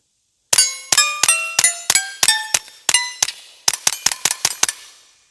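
A Kel-Tec P17 .22LR pistol fired with subsonic ammunition at 100 yards: about fourteen sharp, quiet cracks with a metallic, ringing tail, coming in quick bursts with short pauses between them and no talk.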